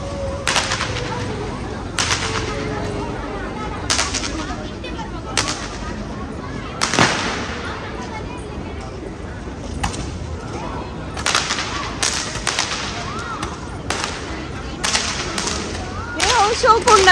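Firecrackers bursting outdoors at a festive village puja, a series of sharp loud bangs spaced irregularly with some crackling, near and echoing, with faint voices in the background.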